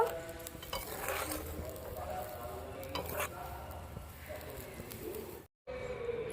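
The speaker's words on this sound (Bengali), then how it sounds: "ঝোলটা একটু ফুটিয়ে নেব" Kofta curry gravy cooking in a pot, with a steady soft sizzle and bubbling plus occasional stirring scrapes close by, then a brief dropout near the end.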